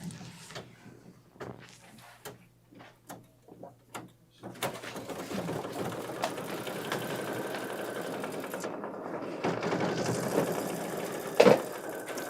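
A Kimberbell embroidery machine runs a decorative bean stitch, a steady mechanical whir with faint rapid needle ticking that starts after a few quiet taps and continues evenly, close by.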